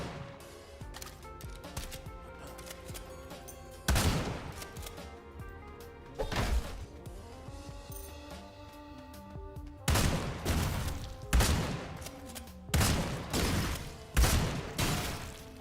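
Corpse explosion skill going off in a fantasy action video game, heard as a series of sharp, loud bursts spaced a few seconds apart over a busy background of game sounds, with no talking.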